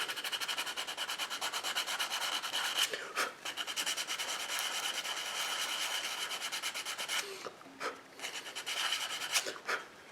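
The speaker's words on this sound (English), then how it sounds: "Sand the top of it" Wood being hand sanded with 180 or 120 grit sandpaper for a Christmas tree ornament, close and steady back-and-forth rubbing strokes that break briefly a few times before resuming.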